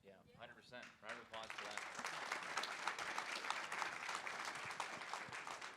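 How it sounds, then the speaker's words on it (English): Audience applause at a talk on running for office, a dense wash of clapping that rises after a brief spoken lead-in and holds steady, fairly faint and distant. "Round of applause for"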